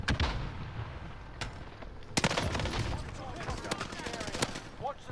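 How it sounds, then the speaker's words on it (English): A stun grenade going off in a video game shooter match, a loud broadband blast with sharp cracks, set among scattered gunfire bursts and game effects. "Stun grenade out."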